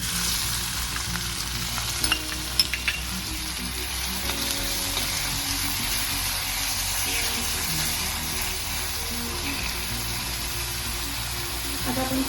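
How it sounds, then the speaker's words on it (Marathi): Onion frying in hot oil in a heated kadai for a Konkan-style black pea usal, a steady close sizzle with occasional stirring clinks throughout, no talk over it. "आता आपण कांदा भाजून घेऊया"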